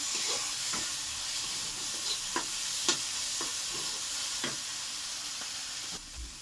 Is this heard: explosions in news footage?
no